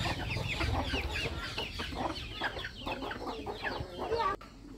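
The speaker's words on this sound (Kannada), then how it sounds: "ಪ್ಯೂರ್ ನಾಟಿ ಕೋಳಿ." Around fifty pure native country hens cluck busily on a farm, a dense, close chorus of overlapping clucks and chatter continuing steadily before cutting off abruptly near the end.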